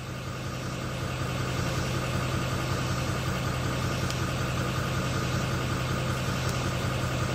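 A car engine idles steadily with a low, even hum and faint mechanical vibration, continuous and close throughout, with no voices.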